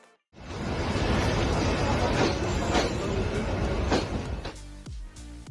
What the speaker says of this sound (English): the amazing sight when the train passes right through it